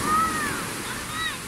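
Storm-driven Mediterranean surf washes onto the beach at Belek after bad weather, a steady broad wash of breaking waves with faint high whistles or cries drifting in over the noise.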